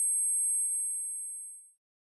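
Ringing sound effect in an audio drama, a pure high-pitched tone that starts abruptly, holds steadily and slowly fades out to silence after nearly two seconds.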